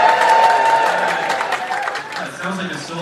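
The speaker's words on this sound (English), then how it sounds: "It sounds like a sold-out crowd" Applause and cheering from a sold-out crowd at a concert venue, a loud sustained wash of clapping that slowly fades over a few seconds.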